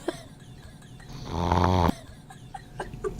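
A person snores once in a loud, rasping inhale lasting under a second, set against a quiet room with faint background noise and small scattered sounds.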